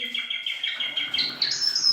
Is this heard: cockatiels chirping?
yes